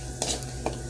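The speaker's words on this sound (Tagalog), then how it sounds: "naghahalo na po ako" Garlic sautéing in a hot pan over high heat for ginisang tuna as it is stirred, a steady sizzle broken by two brief scraping strokes of the utensil, close and without talk.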